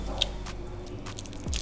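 A crisp bite into a fried crab rangoon at a quiet Springfield, Missouri restaurant, a short crunchy crackle and squish of chewing heard close to the mouth.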